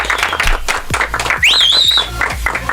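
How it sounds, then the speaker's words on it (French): Audience applause and cheering for a singer in a radio studio: dense, continuous clapping with a bright whistle rising above it midway, steady and close throughout. "Je vous demande s'il vous plaît de faire un triomphe et d'applaudir bien comme il faut la star de demain et d'aujourd'hui et de toujours."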